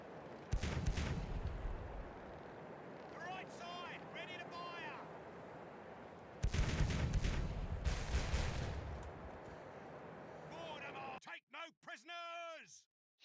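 Ship cannon fire in the video game Caribbean Legend, two heavy booming volleys with rumbling tails, separated by quieter stretches where a voice talks.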